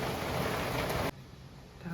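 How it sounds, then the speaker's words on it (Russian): Heavy morning downpour in a thunderstorm, a loud dense broadband hiss of rain for about a second that then drops sharply to a quieter, steady patter of falling rain. "У нас утро началось с ливня, гром и молния."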